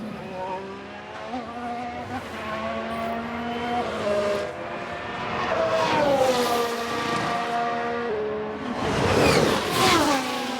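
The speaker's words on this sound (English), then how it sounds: "Sounds like a spin." Simulated Formula One race car in F1 Manager 2022 losing control, its high engine whine wavering and sliding in pitch, with louder rough bursts of spinning and impact noise midway and near the end.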